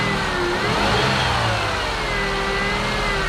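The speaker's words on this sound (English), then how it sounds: "So if you hear this sound, this winding sound," A 2003 Toyota Highlander engine runs steadily up close, its loud mechanical drone carrying a thin, sustained whine from a failing alternator that wavers slightly in pitch throughout.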